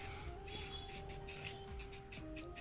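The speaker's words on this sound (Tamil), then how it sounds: "ஸ்ப்ரே டின் பெயிண்ட்டை நம்ம ஸ்ப்ரே பண்ணுறோம்" A spray tin sprays paint onto the rear shock absorber stay of a Honda Unicorn 150 motorcycle, delivered as a string of short hissing bursts over a faint steady hum.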